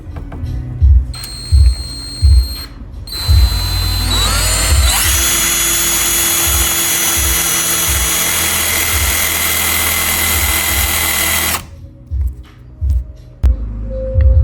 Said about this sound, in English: we're gonna go ahead and just drill it out like so